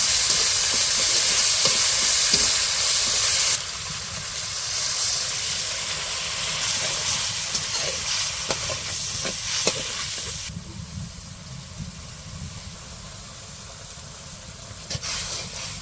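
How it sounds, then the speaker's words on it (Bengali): Onions and ground spice paste of garlic, cumin, cinnamon and cardamom fry in hot oil, producing a loud steady hiss and sizzle that drops in level partway through, with intermittent stirring scrapes. "মশলাগুলো এখন হচ্ছে কষাই নেবে একটু।"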